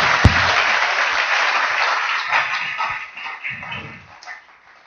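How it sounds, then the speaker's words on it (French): A church congregation claps loudly for the Lord at a worship service, a sustained wave of applause that fades out toward the end, with a few voices calling out over it. "Applaudissons fort le Seigneur."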